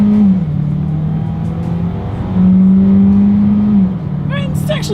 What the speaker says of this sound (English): let's see how quickly we can get the new 2021 Hyundai Kona here up to speed